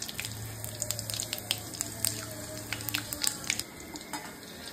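Whole cumin seeds sizzling in hot oil with bay leaf and dried red chilli, a faint crackle of scattered pops and light spitting over a low steady hum.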